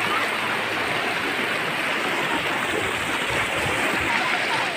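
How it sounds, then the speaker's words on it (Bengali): The Rishi River in East Sikkim rushes over rocks as a steady broadband wash of flowing water, moderately close and unbroken, with no clear voices above it. "তার মাঝখানে বয়ে চলেছে এই ঋষি নদী"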